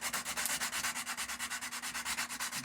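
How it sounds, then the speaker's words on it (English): Rapid, rhythmic rasping of 80 grit sandpaper rubbed back and forth over a wooden hammer handle, about eight even strokes per second, close and steady with no voices. "You see that last fine tuning with the sandpaper."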